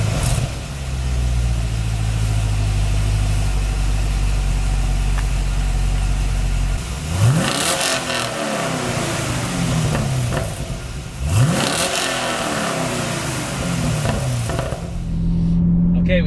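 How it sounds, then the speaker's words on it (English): A fifth-generation Chevrolet Camaro SS with stock exhaust idles with a deep exhaust rumble, then revs sharply twice, each rev rising and falling back to idle. "clips of 5th generation Camaros with the stock exhaust starting up and revving."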